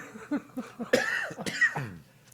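A few sharp, close coughs in a quick burst, with short pauses between them, fairly loud and alone.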